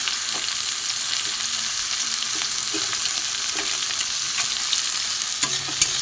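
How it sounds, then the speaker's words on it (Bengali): Green chillies and tomatoes sizzle steadily in hot oil as a base for Bengali fish chops, with a constant close frying hiss and occasional soft stirring clicks. "একটু ভালো করে ভেজে নেবো"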